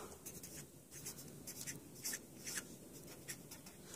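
Writing on a slide, heard as soft scratchy strokes in short bursts over a steady background hiss, faint and close.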